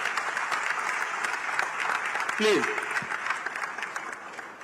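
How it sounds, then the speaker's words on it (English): Audience applause fills a plenary session hall at a diaspora gathering, a steady wash of many hands clapping throughout, with a speaking voice briefly heard over it. "I think we must give a round of applause for him."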